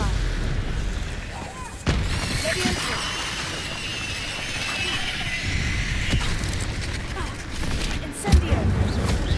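A Stupefy spell is cast in the video game Hogwarts Legacy during a fight with spiders on a bridge: two sharp booming bursts cut through a steady rumbling, whining game soundscape.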